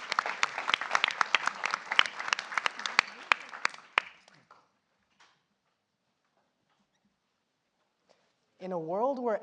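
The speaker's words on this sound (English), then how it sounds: "Let's give them a round of applause, folks." A crowd claps and applauds steadily for about four seconds, then it fades to near silence before a voice begins speaking at the end.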